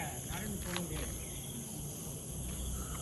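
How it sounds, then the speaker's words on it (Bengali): Crickets chirp in a lush garden around an island hotel in the Andaman Islands at morning, a faint, dense insect trill forming a steady background with little else standing out. "আর ঝিঝি পোকা পাখির ডাকে পুরো ঘুম ভেঙেছে।"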